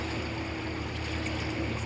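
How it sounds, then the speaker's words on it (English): High tide waves wash and splash inside a rocky chasm, giving a continuous, echoing, churning roar of water that stays steady and fairly close throughout. "Echoey, splashy. This is some waves."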